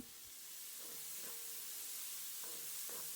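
Chopped onion hits a pan of frying chili and garlic, giving a steady close sizzle and hiss with a few faint stirring scrapes, no talking.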